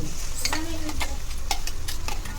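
Masala for egg curry stirred in a hot pan, a steady sizzle with repeated spoon scrapes and taps against the metal, close and fairly loud.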